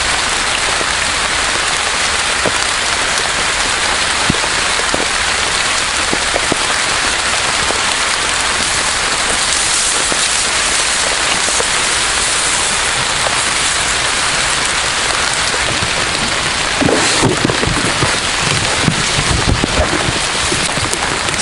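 Steady rain hisses and patters on a surface for a long stretch, loud and close, with gusts of wind buffeting the microphone and no talking.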